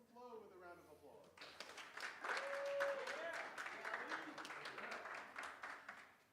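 A modest round of applause at a tech workshop welcomes a presenter from Flow, scattered claps building then tapering while voices carry over them.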